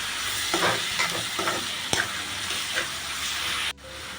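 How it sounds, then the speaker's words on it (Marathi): Onion and chopped tomato fry in oil in a home kitchen while being stirred for a Malvani-style wet cashew dish, a close steady sizzle with scraping stirs, cut off abruptly near the end. "टोमॅटो पण नरम व्हायला द्यायचं आहे तेलामध्ये"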